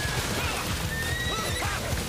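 A horse neighs in an anime battle scene, a drawn-out whinny with rising and falling pitch over a dense, noisy soundtrack, with faint hoof clatter beneath.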